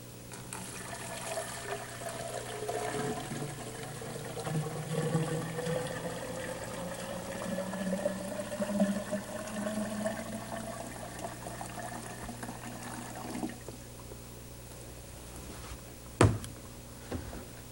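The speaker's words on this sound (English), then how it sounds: "we'll put some water in the container, and we've colored the water to make it easier to see" Colored water pours steadily into a container in a 1970s power plant training demonstration, a continuous close splashing fill that runs for most of the stretch and then stops, with a brief knock near the end.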